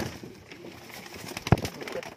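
Teddy pigeons give soft, low coos against a quiet background, with one brief, louder call standing out near the middle.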